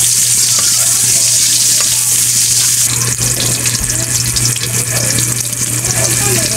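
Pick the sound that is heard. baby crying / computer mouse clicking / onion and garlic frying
onion and garlic frying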